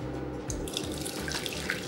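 Hot chili cooking water poured from a pot through a sieve into a sink, a continuous rushing splash with a few brief drips and clinks, close and fairly quiet.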